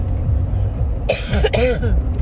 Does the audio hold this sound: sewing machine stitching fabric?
no